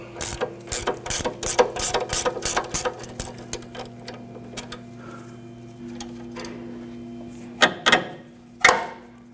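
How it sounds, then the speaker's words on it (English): A 15 mm ratcheting gear wrench turns a sway bar end link nut on a 2007-2017 Jeep Patriot, giving quick bursts of sharp ratchet clicks, then a few louder metallic clanks near the end, with no talking. "We're using a 15 millimeter gear wrench and a number 5"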